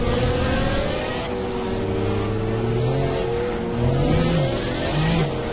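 Pagani Zonda engines drone through a racing video game, several cars humming and whining at once, with pitch sliding up and down as they rev and shift, fairly loud and continuous without speech.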